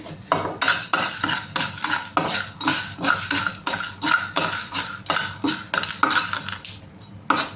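Rock salt being dry-roasted in a pan for mustard tamarind rice, heard as a brisk, rhythmic series of metallic scrapes and clinks from stirring, loud and close with no talk.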